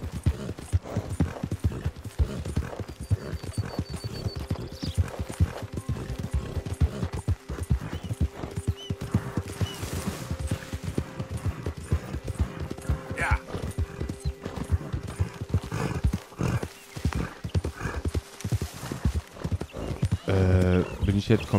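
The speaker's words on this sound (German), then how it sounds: "Einfach mal ein neues Pferd ausbilden." In the video game Red Dead Redemption 2, horse hooves clip-clop in a steady rhythm, with a whinny partway through, while someone talks over the gameplay.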